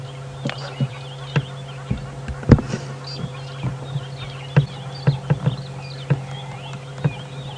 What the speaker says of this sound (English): The sounds of the scrub robins and drongos.